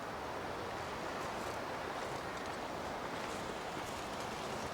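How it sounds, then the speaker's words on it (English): Constant roaring wind at Bleak Inlet in The Long Dark video game, a steady, loud, broadband rush with faint gusting flutter and no voices over it. "Why is it always windy?"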